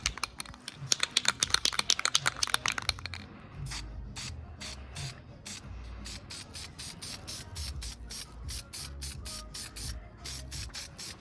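Spray gun applying Black Pearl paint to car parts, a rapid burst of hissing spray pulses for about three seconds, then a steady run of evenly spaced short bursts, close and fairly loud with a low background hum, no talk.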